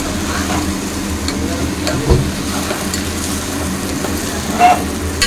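Curry with turmeric sautéing in a pan gives a steady, low sizzle throughout, with a couple of brief clunks from the pan or spoon.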